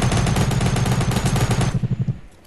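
Rapid automatic gunfire from a Fortnite squad match rattles loudly in a dense burst that tapers into a few separate shots and then stops.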